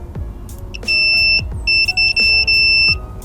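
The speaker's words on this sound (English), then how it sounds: "you should hear beeping like that" Several sharp electronic beeps from a multimeter in continuity mode, each a steady high tone lasting a fraction of a second to half a second, close and loud, with clicks between.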